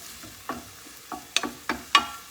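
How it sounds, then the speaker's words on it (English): Red onion in a pan giving a soft sizzle with several distinct scraping stirs spaced about half a second apart, close by and fairly quiet, no talking. "All right, we're going to stir that around. So we're going to do the onion, get that nice and soft."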